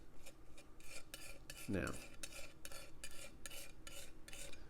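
Homemade oil paint is worked with a palette knife, giving quiet, repeated scraping and smearing strokes at a close, steady rhythm, with a brief spoken word in the middle.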